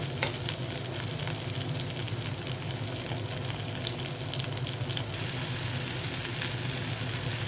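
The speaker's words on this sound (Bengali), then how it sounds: "এখন হচ্ছে ভর্তার জন্য টমেটোটা ভেজে দিচ্ছি এভাবে" Tomato frying in a pan for rohu fish bharta gives a steady, close sizzle with faint stirring scrapes, growing louder and brighter near the end, with no voices.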